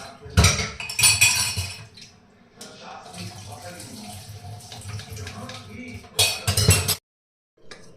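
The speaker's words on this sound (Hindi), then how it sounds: "इसी ज्ञान के साथ हम बर्तन साफ कर लेते हैं" Dishes, pots and pans being washed at home: running water, scraping, and metal clinks of cutlery and utensils come in louder bursts, with a voice talking faintly in the background.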